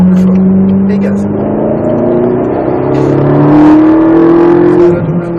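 Ferrari 458 Italia accelerating on a race track at Croix en Ternois, engine note rising steadily as speed builds, heard from inside the car with a constant whirring drone, loud and close.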